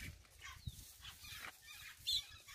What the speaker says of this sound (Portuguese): Os pintinhos tá tudo ali, ó, ciscando ali nas paias de cana.